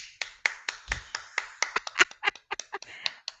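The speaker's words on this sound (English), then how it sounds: "Hand clap." Hands clap sharply about sixteen times in a quick, slightly uneven rhythm, each clap crisp and close with no talk over them.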